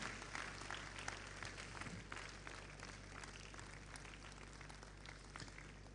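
Sustained applause from a seated audience after a lecture on benchmarking higher education quality, a steady even wash of many hands clapping at a distance for several seconds.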